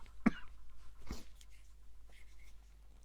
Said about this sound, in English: excuse me while I clear my throat.